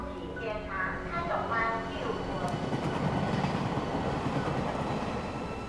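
A train pulls out of a station in Jiaoxi with a steady low rumble and rolling wheel noise that stays even and fairly distant, while soft voices or announcements sit faintly on top.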